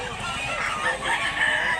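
A rooster crows at a busy chicken market in Mantalungon, Cebu, its drawn-out call rising over a dense background of other fowl and nearby voices.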